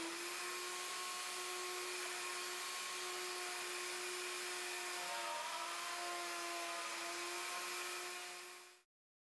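A plunge router routes mortises in wood using a Leigh D Series jig with a multiple mortise and tenon attachment, giving off a steady, high-pitched motor whine that holds for about nine seconds before cutting off abruptly.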